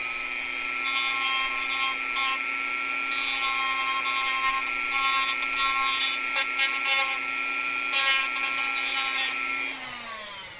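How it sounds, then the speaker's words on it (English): A Dremel rotary tool grinds lightly at the plastic of an Alfa Snooper model kit, a steady high whine broken by gritty bursts of contact, then the motor spins down at the end. "I'm gonna just use the Dremel here just a teensy bit."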